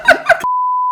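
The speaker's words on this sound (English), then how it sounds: "every time we say cracker, just a beep" A few quick spoken syllables give way to a steady, loud, single-pitched censor beep that holds for about half a second before cutting off.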